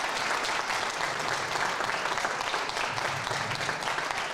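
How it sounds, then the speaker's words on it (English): An audience gives a steady round of applause for a young conservatorium ensemble at a live book launch, dense even clapping throughout, fairly distant and moderate in level with no talk over it. "Let's give them a round of applause."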